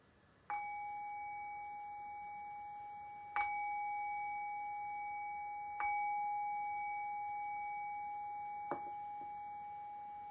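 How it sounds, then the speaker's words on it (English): A meditation bell rings in a quiet room, struck at least three times with long, clear ringing tones that slowly fade between strikes. "I'll cue that by ringing the bell 3 times"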